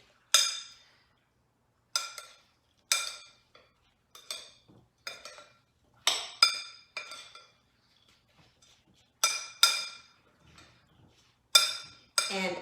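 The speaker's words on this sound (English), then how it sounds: "Give it a quick mix." A utensil stirs a fall baking snack that tastes like apple pie in a bowl, giving sharp metallic clinks and scrapes in short irregular bursts separated by quiet gaps, close and clear with no talking.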